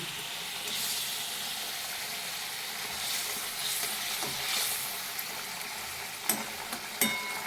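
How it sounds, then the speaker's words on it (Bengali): Fish pieces frying in hot oil in a kadai for fish curry, a continuous broad sizzle with a few sharp clinks and spatters near the end, close and without talk. "এখন এক এক করে মাছগুলো সব কড়াইয়ে দেওয়া হচ্ছে"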